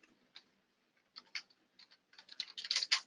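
Keys tapping on a computer keyboard while an ID number is entered, a few sparse strokes at first, then a quicker, louder burst of clicks near the end, close and alone with no talk.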